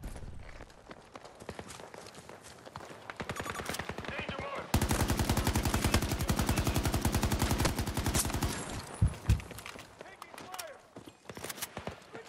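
Assault rifle fire in the Battlefield video game comes in rapid automatic bursts, building to one long, loud sustained burst before breaking into shorter volleys, while someone talks over it.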